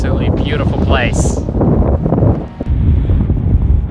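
Strong wind buffets the microphone at the top of the White Sands dunes in New Mexico in a steady low roar, with bursts of voices and whistling tones early on.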